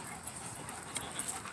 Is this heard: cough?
no